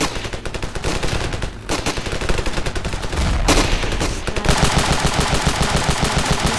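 Continuous rapid automatic gunfire and scattered shots in a Ravenfield video game battle, loud and dense throughout with overlapping bursts and a brief heavier impact midway.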